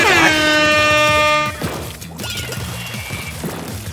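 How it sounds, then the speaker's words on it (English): Loud, blaring air horn sound effect on a Splatoon game stream, sustained for about a second and a half before cutting off into game music and action noise. "That deserves some air horns."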